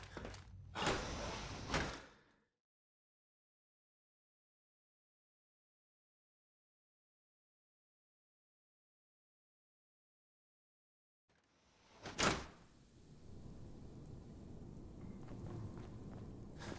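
Door opening in the post-apocalyptic video game Fallout 4: a brief mechanical thud and scrape, followed after a long silent gap by a sharp clank and a sustained rumbling, whirring ambience.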